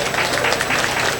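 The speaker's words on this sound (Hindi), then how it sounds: "जोरदार तालियों के साथ स्वागत," Audience applause at a fair's cultural program, a dense continuous burst of clapping from a large crowd, loud and close.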